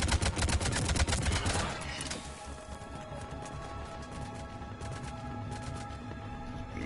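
Enemy gunfire in the video game Mass Effect 3, a dense burst of rapid automatic shots for about two seconds, followed by sporadic distant cracks over a low ambient rumble.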